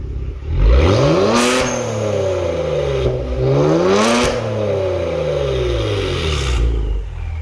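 Deep, loud exhaust roar as a Genesis G70 3.3 with its variable exhaust valve open is revved three times, each rise climbing then dropping back to a rumbling idle.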